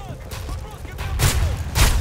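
Call of Duty Modern Warfare 3 shotgun fire: two heavy, booming blasts land about half a second apart near the end, following softer shots and scattered game noise, with faint speech underneath.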